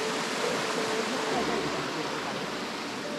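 A forest stream flows at a crossing point on the Lonavala to Bhimashankar trek, its close, steady rush of water filling the air evenly throughout.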